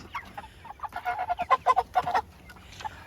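A flock of backyard chickens clucking nearby, a rapid run of short, rhythmic clucks building in the middle, with softer scattered calls before and after.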